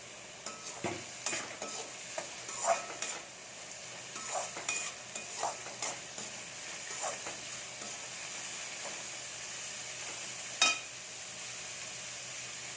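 Onions sauté in a pan for brinjal peratal with a constant gentle sizzle, broken by a run of spatula scrapes and taps in the first half and one sharp clack late on, with no talking.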